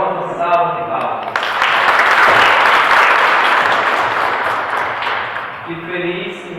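A church congregation at Mass breaks into sustained, warm applause that swells and then fades, with voices heard before and after the clapping.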